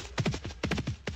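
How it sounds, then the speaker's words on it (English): Horse hooves clip-clopping in the Second Life virtual world, several quick, close, moderately loud hoof strikes in uneven bursts with brief pauses, no talk. "Oh, there's that horse."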